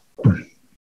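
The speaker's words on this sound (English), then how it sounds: "I thought it's better to get one cough out of the way and they can chop it out." A single short cough from someone speaking on stage, close and fairly loud, a brief throaty burst that fades within half a second into silence.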